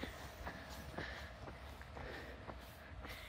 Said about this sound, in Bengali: এবার ট্রেন শুনতে পারছো যাচ্ছে